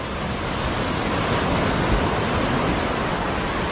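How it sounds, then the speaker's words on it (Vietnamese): Sea waves lapping on Long Hai beach on a rainy, overcast evening, a loud, continuous wash of surf with wind noise and no voices. "sóng biển dập dìu."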